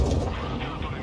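Tank cannon fire in the World of Tanks Blitz game, with a Progetto 65 tank in play: a heavy, booming blast at the start that rumbles on through a short, dense stretch of game noise.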